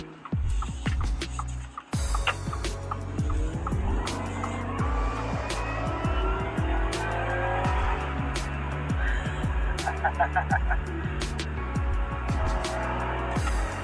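A Ford F-150 Raptor pulls hard in four-wheel drive with traction control off, its engine rising through a series of shifts in a steady, loud, close drone, with some brief tire noise and no talking.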